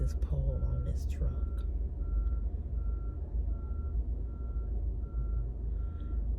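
A truck's reversing alarm sounds as a steady train of evenly spaced beeps while a pole is loaded onto it outdoors, with a low engine rumble beneath and a voice talking briefly at the start.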